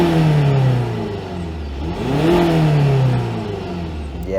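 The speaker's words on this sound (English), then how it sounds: "So normally it just sounds like a normal diesel." A Skoda Kodiaq VRS diesel engine revs up twice in a loud, close sweep, the pitch climbing and falling with each blip over a clattery diesel idle, with no sound enhancers engaged.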